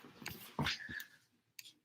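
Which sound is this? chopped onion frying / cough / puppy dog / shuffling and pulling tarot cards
puppy dog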